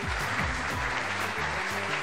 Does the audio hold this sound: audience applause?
yes